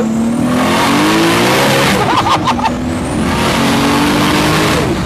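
A 900-horsepower car accelerates hard, its engine roaring loud and close with rising revs, a brief tire squeal partway through, the roar sustained across the whole stretch.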